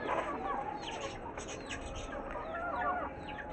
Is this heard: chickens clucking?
yes